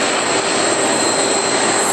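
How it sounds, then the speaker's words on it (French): A jet airliner engine drones in flight from Ireland to France, a loud, steady cabin roar with a thin high whine, constant and alone. "C'est notre avion, on part de l'Irlande et on s'en va en France."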